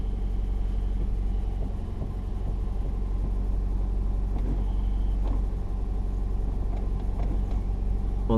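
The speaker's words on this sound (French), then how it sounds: "c'est l'embrayage qui fait un boucan." A Renault Super 5 1.1 fitted with a GT28 turbo idles and rolls with a steady low engine rumble, while its faulty clutch adds a loud, uneven rattling racket that stays close and continuous throughout.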